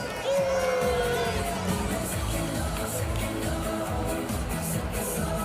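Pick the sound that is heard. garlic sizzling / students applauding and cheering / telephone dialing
students applauding and cheering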